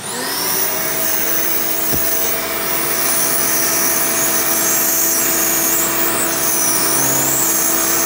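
A Hoover Elite 350 U4463-9 upright vacuum cleaner running up close, a loud, steady motor roar with a high whine throughout and no talking.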